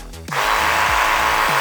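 A small Makita 10.8V cordless reciprocating saw whirs loudly and steadily after a brief startup, with faint repeated dips in the motor pitch.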